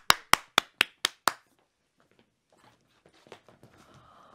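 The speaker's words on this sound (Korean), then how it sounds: "자 박수로 청해 듣겠습니다." Six sharp, evenly spaced hand claps ring out close and loud in a radio studio ahead of a national-team b-girl's breaking demonstration, then give way to quieter scattered taps and rustling.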